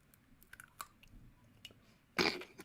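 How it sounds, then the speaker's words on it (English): Someone bites into a pickled bell pepper, a few soft chewing clicks followed by one loud crunchy bite near the end, close and quiet otherwise. "So I'm gonna take a bite"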